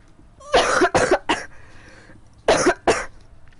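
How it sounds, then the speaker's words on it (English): A microphone test with a close, loud cluster of three quick coughs, then a pause and two more sharp coughs, with no speech. "now it's time for the cough test"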